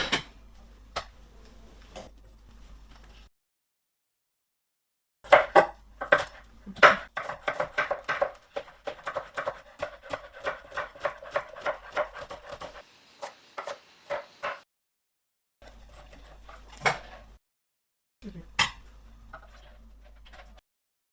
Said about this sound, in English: Now that that's all washed, let's chop them up.